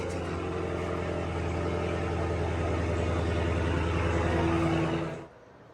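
A car engine running steadily with a low, even rumble and whir, close and continuous for about five seconds before cutting off abruptly into near silence.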